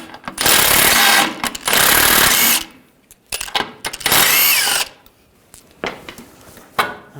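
Loud bursts of a power impact tool spinning nuts off with a 16mm socket on a 2009-2017 Volkswagen Tiguan during front axle replacement, several long whirring runs separated by short pauses and lighter rattles, close up.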